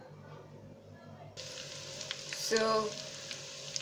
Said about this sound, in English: yam balls are frying beautifully. Remember, keep them on a low heat by themselves.